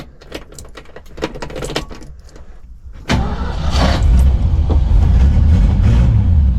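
A car engine is cranked after a few pedal pumps, with clicks and short bursts before it catches with a loud roar at about three seconds and then keeps running in a steady, strong idle nearby.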